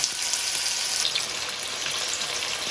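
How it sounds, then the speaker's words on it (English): Raw chicken pieces for brown stew chicken sizzle and crackle in a large hot skillet, a steady bright frying hiss that stays close and continuous with no talk. "pick up each piece of meat and put it in the pot to cook"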